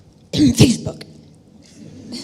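A single abrupt sneeze bursts out loud and close, followed by a quieter breathy trail and faint room sound, with no talking over it.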